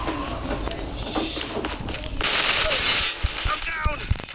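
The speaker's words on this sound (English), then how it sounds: "Where is the shooting coming from?" Rapid gunfire in Call of Duty rattles close and loud in automatic bursts, followed by a few scattered single shots as the shooting trails off.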